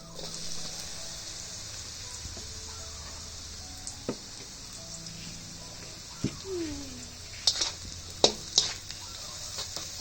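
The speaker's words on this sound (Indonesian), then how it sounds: "Kita goreng tempe dulu ya." A steady hiss of tempeh frying in hot oil with scattered pops and crackles, plus occasional utensil stirring and clinks.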